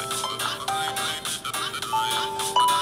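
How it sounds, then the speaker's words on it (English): A bright electronic phone alarm plays a quick, chirpy melodic pattern of short beeping tones, repeating steadily at close range. "This is a normal alarm, though."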